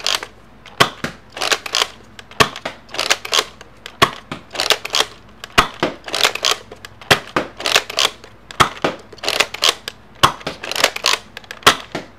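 A Nerf Bees blaster fires foam darts in normal shots, each a sharp snapping pop followed by a breathy rattling burst, repeated in a steady rhythm with short pauses for priming, loud and close with no talking.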